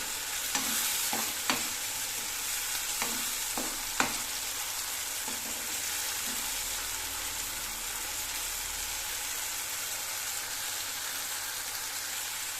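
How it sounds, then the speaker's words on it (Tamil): Pureed tomatoes sizzle and sauté in a hot pan for green peas varuval, with a steady frying hiss and a few sharp scrapes of a spoon stirring early on, then a continuous close sizzle with no voices. "தக்காளியோட பச்சை வாசனை போகிற அளவுக்கு வதக்கிக்கணும்"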